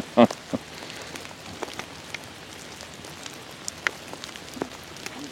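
Light outdoor rain patters in a quiet, even hiss, broken by occasional distinct drops striking nearby surfaces, one louder close hit at the start, with no talking.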